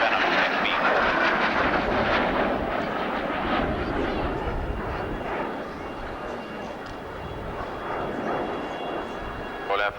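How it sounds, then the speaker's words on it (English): An Avro Vulcan bomber roars past at a 1990 RAF Abingdon airshow, a broad, heavy jet rumble that swells and slowly fades, with a commentator talking over it. "the Avro Vulcan V2."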